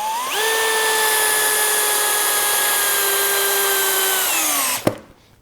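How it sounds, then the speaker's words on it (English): A Skil PWRCore 12 cordless hammer drill in drill mode whines at a steady high pitch for about four seconds as it drives a fastener, then winds down with a sharp click. "Let's set this to drill mode and just drive fasteners, see how it does."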